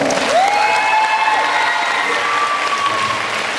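A concert audience at Dulan gives sustained, dense applause with scattered cheers, loud and steady for the whole stretch, with a shout rising over the clapping.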